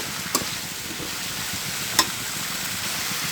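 Pumpkin and drumstick pieces with salt and turmeric being sautéed in a pan give a soft, steady sizzle, with two brief sharp clinks of a spoon against the pan, no talking.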